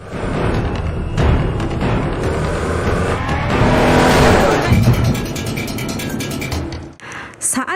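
Cars speeding in a chase, loud engines roaring and tires skidding under dramatic music and voices, with a brief drop near the end before the noise returns.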